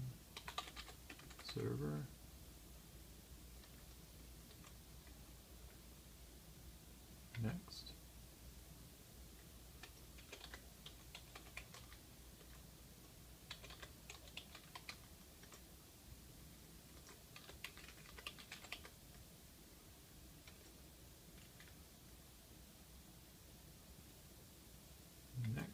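Faint typing on a computer keyboard during Windows 7 setup on a Dell Optiplex 755, with sparse soft key clicks and a few short bursts over quiet room noise, and one brief spoken word.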